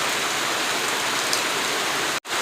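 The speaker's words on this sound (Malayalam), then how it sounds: "ഇവിടെ നല്ല മഴ തകൃതിയായിട്ട് പെയ്തുകൊണ്ടിരിക്കുമ്പോഴാണ് ഞാൻ വോയിസ് ഓവർ ചെയ്യുന്നത്" Heavy rain pours in a steady, dense hiss throughout, loud and close, cutting out briefly near the end with no voices.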